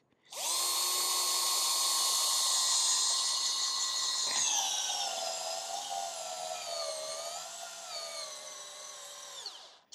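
A DeWalt cordless drill driving a large screw whines loudly and steadily for several seconds, its pitch dipping and wavering as it bears down under load, then spins down abruptly.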